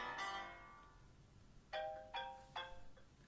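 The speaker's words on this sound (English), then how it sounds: "So this is the iOS 6 ringtones" An iPhone iOS 6 ringtone: a soft chime tone rings out, then three bright ascending bell-like notes sound in quick succession, fairly quiet and clean.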